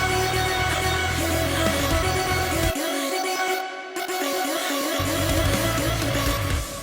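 An Easy Chops Plus vocal chop effect runs as a dense, loud processed vocal texture, thinning briefly in the middle when the low end drops out before the full sound returns.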